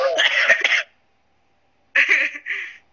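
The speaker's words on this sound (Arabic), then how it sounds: "اديني كحة والله" Two bursts of harsh, raspy coughing close to the mic, separated by about a second of silence, the second burst shorter.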